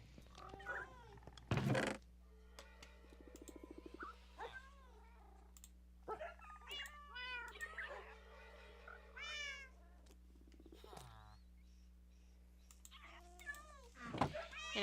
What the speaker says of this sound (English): Get off, you foolish little cat.